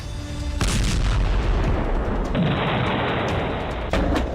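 A missile explosion: a heavy, roaring blast erupts and rumbles on for several seconds, followed by a second sharp burst near the end.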